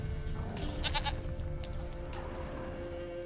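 A single goat bleat in The Witcher 3: Wild Hunt, a short wavering cry over a steady low game ambience and a faint tonal hum, moderately close.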